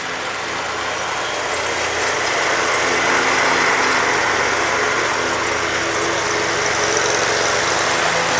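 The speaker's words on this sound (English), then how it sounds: "catch the arrival of the UPS A300 coming in from Houston Intercontinental Airport in Texas." A UPS Airbus A300 cargo jet arriving at Dallas Fort Worth International Airport, heard from a distance as a steady rising engine roar with a buzzing, mower-like rasp that swells and holds.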